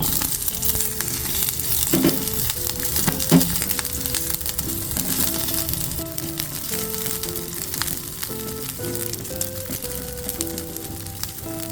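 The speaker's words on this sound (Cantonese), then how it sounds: "爆一爆呢個紅葱頭、薑同埋蒜頭" Shallots, ginger and garlic stir-fry in a pot, a steady crackling sizzle with scraping and stirring knocks, heard alone.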